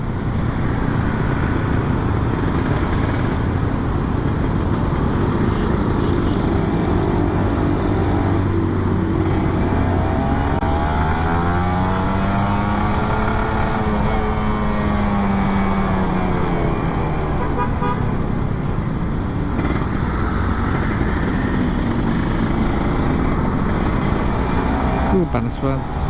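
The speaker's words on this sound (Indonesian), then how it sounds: "ini gue tes gas rem aja." A Kawasaki Ninja RR 150 motorcycle revs in hot Jakarta street traffic, its two-stroke engine rising and falling through repeated throttle sweeps over steady road noise, with occasional horns and a rider talking throughout.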